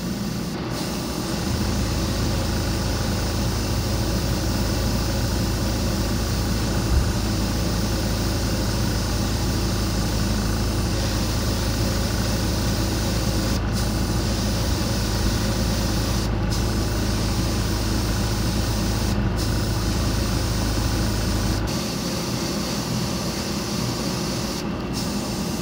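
An airbrush sprays candy paint onto an Ultraman suit model kit, a steady close hiss over a constant compressor hum running almost the whole time, with a few short pauses in the spray and no talk.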